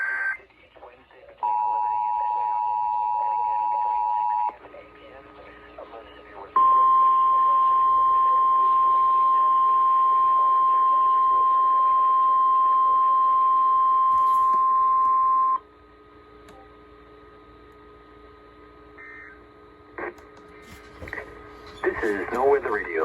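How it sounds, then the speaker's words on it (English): NOAA Weather Radio Emergency Alert System test from Ruskin, Florida: a short steady two-tone alert signal, then a longer single attention tone of about nine seconds, both loud and clean, followed by an announcer speaking over low radio hiss. "The preceding signal was a test of the public warning and alarm for transmitters in the Florida listening area, originating from Ruskin, Florida."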